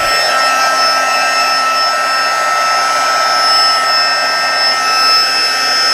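A heat embossing tool running on setting 2 blows hot air in a steady, loud, close whir with a faint high whine, unbroken for the whole stretch and with no talk.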